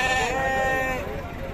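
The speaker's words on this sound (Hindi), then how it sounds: "इधर और एक भी बकरा इधर आया है" A goat bleats at a crowded livestock market where goats are sold ahead of Bakrid. The single bleat is loud, close and strongly tonal, wavering for about a second and then trailing off. Faint crowd noise sits underneath.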